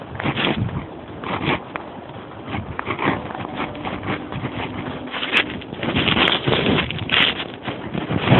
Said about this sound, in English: Now the wind is going from my right.